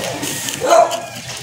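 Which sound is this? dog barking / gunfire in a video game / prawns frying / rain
dog barking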